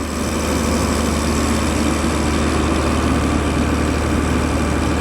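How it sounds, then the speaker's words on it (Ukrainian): A backup power generator runs close by at a steady, loud idle, its low engine drone and mechanical hum holding constant without changes in pace. "Генератор запущено."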